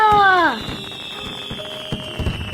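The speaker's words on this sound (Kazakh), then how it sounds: "Ура! Салют!" Cartoon fireworks salute: a descending whistle followed by a scatter of faint crackling pops, with a voice cheering over the start.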